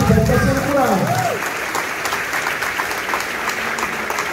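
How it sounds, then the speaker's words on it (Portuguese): Applause fills a church service in Rio de Janeiro, with dense, steady clapping from the congregation continuing throughout, while a voice sings or calls out over it at the start. "Mais uma, aplauso o Senhor Jesus, que está sendo curado."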